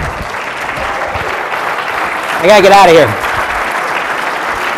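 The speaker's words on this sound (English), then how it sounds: "Round of applause for these guys." Audience applause for volunteers on stage at a hypnosis show, steady crowd clapping throughout, with a voice speaking briefly over it.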